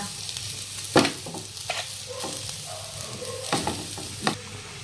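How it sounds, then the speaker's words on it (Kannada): Coconut paste roasts in ghee in a pan, with soft continuous sizzling broken by several scraping stirs of a spoon against the pan, close and fairly clear. "ಕೊಬ್ಬರಿ ಪೇಸ್ಟ್ ಇದನ್ನ ಈ ಥರ ಮಿಕ್ಸ್ ಮಾಡ್ಕೊಂತ ಕೃತಿಗೆ ಹುರ್ಕೊಳ್ಳೋಣ್ರಿ"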